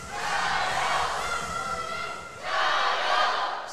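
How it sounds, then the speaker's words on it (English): Spectators at the men's -73kg session of the 2022 Asian Weightlifting Championships chant in Mandarin in loud, sustained unison, with a brief dip before the chant swells again. "So from the crowd, we hear Zhang Shulin Jai Yo, which means let's go Zhang Shulin in Mandarin."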